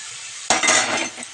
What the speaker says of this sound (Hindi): तो अब हम इसमें डाल देंगे कटी हुई टमाटर